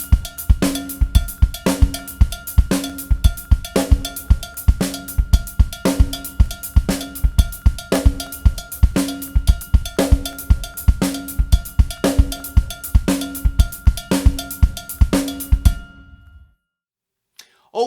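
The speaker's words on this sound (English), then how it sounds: "I'm going to move my hands so that my right hand is playing on my cowbell" A drummer plays a steady tom beat with the right hand on a cowbell and the left on the hi-hat. Loud, close, evenly repeating strokes run about sixteen seconds, then stop into silence.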